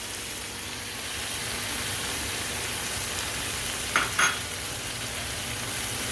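Tomato, onions and peppers cook in a pan for chicken cacciatore, a steady soft frying hiss throughout with a brief pair of spoon scrapes as they are stirred, no talking.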